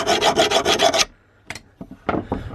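An old metal file rasps flat across the steel edge of a shredder blade in a quick run of close, rhythmic strokes, then a few scattered scrapes and clinks after a short pause.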